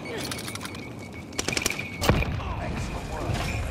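Rapid bursts of automatic gunfire crackle through a Call of Duty Warzone match, with a heavier thump near the middle, mixed under excited voices talking over game chat.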